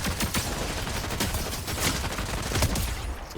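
Tactical assault rifle fire in Fortnite, a dense, sustained burst of rapid gunshots that runs through the whole moment, loud and continuous with game ambience underneath and no speech.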